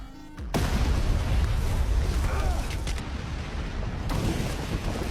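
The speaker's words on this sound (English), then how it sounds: "After a series of explosions" A loud, sustained rumbling blast from a series of explosions begins after a brief quiet moment and rolls on, with a second surge of debris-like roar near the end as a sandy ridge collapses.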